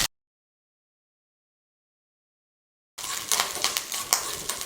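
Mustard seeds, urad dal and curry leaves sizzle in hot oil for a yogurt pachadi tempering, a bright crackling hiss that starts suddenly after silence and continues steadily and close.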